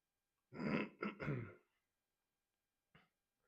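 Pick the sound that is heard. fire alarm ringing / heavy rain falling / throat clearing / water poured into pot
throat clearing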